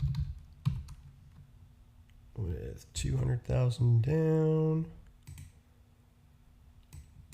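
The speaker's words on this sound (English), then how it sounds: "hitting the wrong keys" Quick bursts of clicking from a computer keyboard, with someone typing irregularly in short runs while someone talks over the keystrokes.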